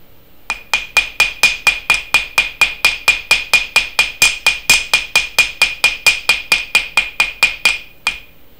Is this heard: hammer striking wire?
yes